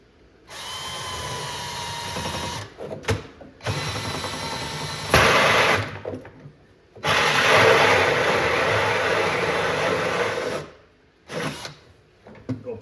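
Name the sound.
drilling a hole in cocktail arcade table for power wire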